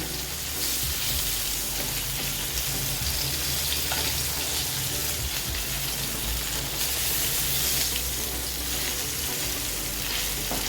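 Shingada catfish pieces, Agri-style spicy fish fry, sizzle in hot oil in a pan: a continuous, loud, close crackling hiss that holds steady throughout, with no talking.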